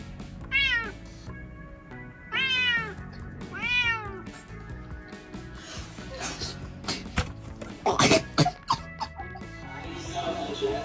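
A cat meows three times in quick succession, clear and close, followed by scattered clatter and knocks in a domestic setting.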